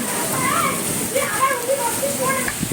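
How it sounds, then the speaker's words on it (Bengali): Steady heavy monsoon downpour in Dhaka hisses throughout while voices, including children, talk and call over it. "বিশাল বৃষ্টি হচ্ছে"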